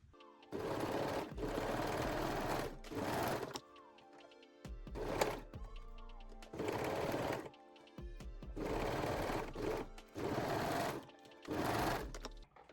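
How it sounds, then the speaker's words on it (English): A serger stitches the side seam and crotch seam of lace-back panties in about half a dozen loud, close bursts of fast whirring, each a second or two long, separated by quiet pauses. "now I will sew one side seam and the crotch seam on the serger"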